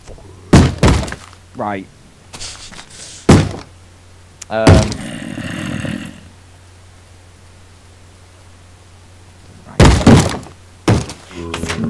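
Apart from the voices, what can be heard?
zombie banging on a door in Minecraft video game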